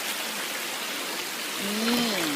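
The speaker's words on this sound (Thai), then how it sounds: "น้ำน้ำตกมันจะไหลมาจากข้างบนนี่" Water from a waterfall pours into the clear Emerald Pool, a steady broadband rush of flowing water heard close and continuous, with a brief voice-like tone rising near the end.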